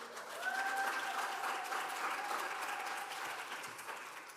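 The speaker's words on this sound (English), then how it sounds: "Can we get a round of applause?" A church congregation gives a round of applause at a worship service, dense steady clapping that swells quickly and holds before slowly thinning, with a faint sustained tone running beneath it.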